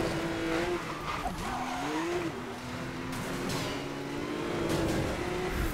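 Red Porsche tearing through a race in Need for Speed Most Wanted, its engine revving and rising and falling in pitch, with tire squeals and skids, steady and loud throughout.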